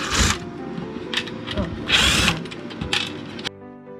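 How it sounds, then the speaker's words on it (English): A power screwdriver whirs in several short bursts while removing the screws from a circuit board inside a microwave oven under repair, the motor spinning up and stopping close by with faint clicking between runs. "grab a screwdriver and unscrew this board"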